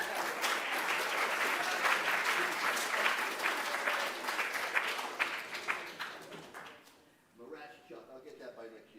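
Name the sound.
audience applauding for an award winner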